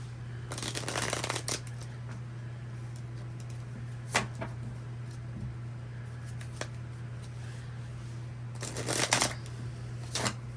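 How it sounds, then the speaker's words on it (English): A deck of tarot cards is shuffled in a few quick riffling bursts, with steady low hum and quiet pauses between them. "I'm going to give these a good shuffle before we start."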